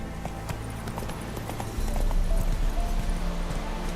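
Roach the horse gallops in The Witcher 3, hooves clip-clopping in a quick steady rhythm, close and loud, with a brief whinny; the pace grows heavier and louder midway through.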